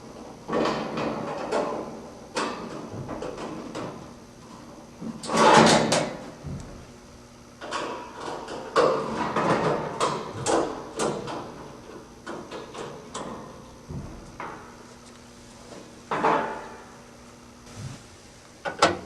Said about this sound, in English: Remove the rear panel.